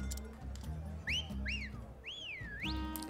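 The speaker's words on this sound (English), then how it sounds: "It's her! It's her! Wolf whistling." A crowd in the video game Octopath Traveler lets out several rising-and-falling wolf whistles over a steady music bed, with short separate whistles followed by a longer swooping one.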